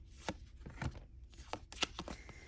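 Tarot cards being shuffled by hand, a quiet run of crisp riffling and slapping bursts at irregular intervals, close and soft, with no talking.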